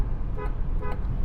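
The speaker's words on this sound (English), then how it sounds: "This is the sound of the horn." A GAC Emkoo SUV horn honks twice in quick succession, two short loud blasts over a low rumble of the car moving.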